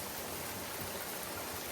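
A stream flowing beside a waterfall near a riverside hut, a continuous even rushing of water that fills the background with no talking.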